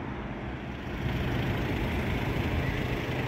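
Mossos d'Esquadra police cars pass at traffic lights on a street in Cambrils, a continuous low engine and road rumble that steps up slightly in loudness partway through, with faint traffic around.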